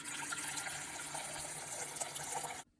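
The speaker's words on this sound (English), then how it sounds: "Then add some water." Water pours steadily into a container holding Murphy's oil soap, a continuous close splashing fill that runs alone for over two seconds, then stops abruptly.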